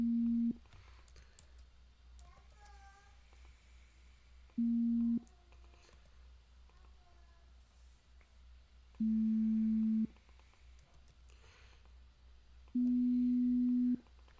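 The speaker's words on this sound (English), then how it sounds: "They're using a sine wave for this." Steady pure sine-wave tones used in a talkloid voice-synthesis setup, sounding as short flat beeps of varying length spaced irregularly over a faint hum, with soft chirps in between.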